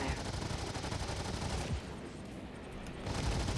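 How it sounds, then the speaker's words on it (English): Rapid automatic gunfire crackles in dense bursts during a Star Citizen fight, loud and continuous, dropping back for about a second before resuming. "someone is shooting GFA's Vulture"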